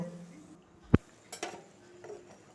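Raw mango pickle being stirred in a pan of simmering oil over medium heat, a sharp spoon clank on the pan followed by a few softer scrapes and clinks, close and sparse, with quiet background.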